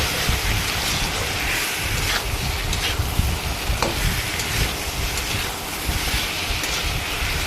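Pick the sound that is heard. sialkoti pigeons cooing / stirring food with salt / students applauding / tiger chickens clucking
stirring food with salt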